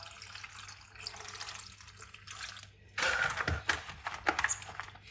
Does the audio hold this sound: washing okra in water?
yes